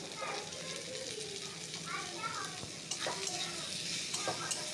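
Spices being stirred into potatoes and pointed gourd in a hot pan, with a soft scraping stir over a faint sizzle, and brief children's voices in the background.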